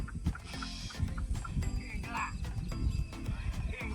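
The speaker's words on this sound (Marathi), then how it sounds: "पहा तिसरी गाडी भरायला बैलगाडी आलेली आहे." A bullock cart pulls up on a farm, its hooves clopping in an uneven rhythm close by, with bells and general farmyard bustle and people talking over the top.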